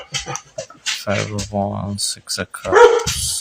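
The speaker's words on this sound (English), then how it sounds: "I'm sorry about my dog." A dog barks loudly once near the end while a person is talking during a tarot reading, a sharp close bark rising above the speech.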